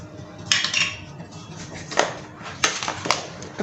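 Fruit chaat with lemon juice being mixed in a bowl, with several sharp clinks of a utensil against the dish scattered among softer scraping and stirring, close up and moderately loud.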